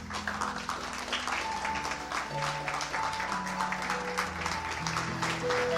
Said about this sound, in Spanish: Póngase sobre su pie y déle un fuerte aplauso al Señor.